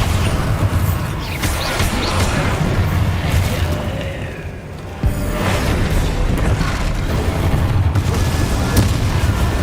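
Repeated booming blasts from the Bombarda spell in the Hogwarts Legacy video game, loud and dense, with one sharp burst midway and continuous rumbling effects around it.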